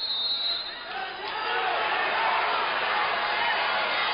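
Northampton fans cheer at a college wrestling match, a steady roar of crowd noise filling a gym, loud and continuous, with a commentator talking over it.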